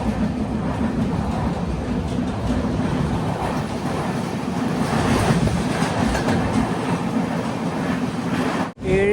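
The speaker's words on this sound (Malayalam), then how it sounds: "ഏഴ് 50 ട്രെയിൻ ഇതാ തിരിയും റെയിൽവേ സ്റ്റേഷനിലേക്ക് എത്തുകയാണ്." A Konkan Railway express train runs along the tracks in monsoon weather, its loud, steady rumble and rattle continuing close by for about nine seconds before a brief dip.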